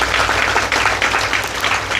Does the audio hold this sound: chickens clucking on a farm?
no